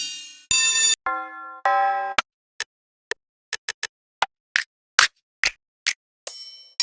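A run of separate percussion samples in FL Studio plays one after another: ringing bell tones, then short sharp rim clicks, snaps and bright metallic triangle hits with silence between.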